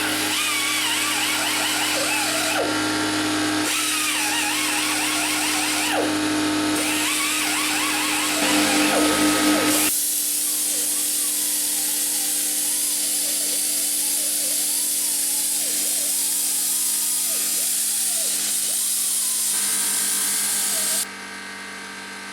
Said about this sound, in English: I'll be using my new Chicago pneumatic angle die grinder since I broke my last one